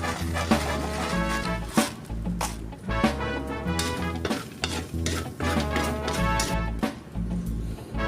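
Bangus sisig with soy sauce is stirred and scraped around a sizzling pan in a steady rhythm, close up, over continuous background music.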